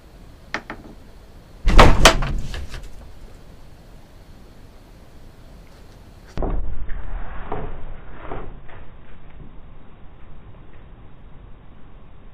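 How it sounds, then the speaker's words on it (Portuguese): Door slamming in a horror video being played back: a sharp loud bang early on, a second heavy thud a few seconds later, then a hissy, rattling tail over low background noise. "do nada a porta bate"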